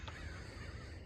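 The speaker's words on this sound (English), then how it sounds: "we got a crow right in front of me." A lone crow caws once, briefly, beside a mountain creek whose steady rushing water fills the background; the call is faint against the flow.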